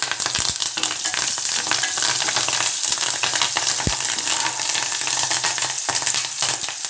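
Onions sizzle steadily in hot oil, a continuous crackling hiss close by, with occasional scrapes of a spoon stirring the pan.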